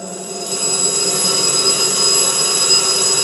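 A loud, shrill electronic alarm clock rings continuously, piercing and unbroken, getting slightly louder after the first half second.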